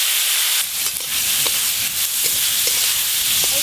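Sour fruits frying and being lightly stirred in hot mustard oil with dried chilli, five-spice and turmeric, a steady close sizzle with a few soft stirring scrapes and no talk.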